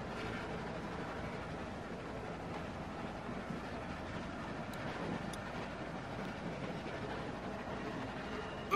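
Train running in The Walking Dead video game, a steady, faint, broadband rumble of rolling wheels and carriage noise continuing throughout.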